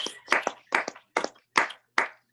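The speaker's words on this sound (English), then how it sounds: "let's give them their proper round of applause for rounding out this project" A small audience claps for graduating seniors of a school and community center's class of 2020 at a student music production showcase, coming as six short bursts of clapping separated by brief pauses.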